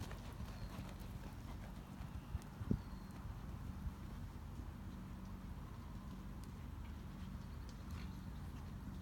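A horse cantering during a riding lesson gives a faint, steady run of soft hoofbeats over low background rumble, with one sharper thud partway through.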